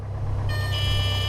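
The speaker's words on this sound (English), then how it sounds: "So that noise is the alarm basically that the wings have lost lift" A Piper PA28 stall warning alarm in the MSFS 2024 flight simulator cockpit starts partway through as a steady high tone over a loud, constant engine drone.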